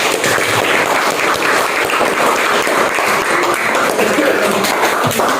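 Applause from a classroom of students, a dense steady patter of many hands clapping together at close range for several seconds with no talking.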